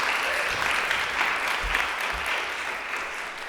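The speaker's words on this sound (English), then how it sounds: "I'd like another round of applause for Mary" Steady audience applause at a women's day panel event, a dense wash of many hands clapping that holds evenly throughout without voices on top.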